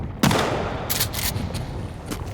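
Shotgun buckshot blasts ring out in the survival video game Sons of the Forest, with one sharp shot followed by several more bursts over a loud, continuous background rumble.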